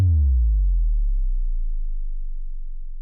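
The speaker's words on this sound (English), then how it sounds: "We have our kind of really simple subdrop sound." Simple synthesized sub drop: a deep sine tone that starts with a sharp onset and slides steadily downward in pitch, decaying into a low sustained rumble over about three seconds.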